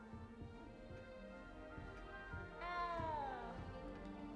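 A cat in the video game Hogwarts Legacy gives one drawn-out, wavering meow that bends downward, heard over soft rhythmic ticking and background game ambience.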